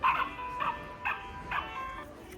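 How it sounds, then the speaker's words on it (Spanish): A musical greeting card plays a recorded dog barking: four short, bright yips spaced about half a second apart, each with a ringing electronic tail, fairly close and alone. "Tiene un perrito que ladra."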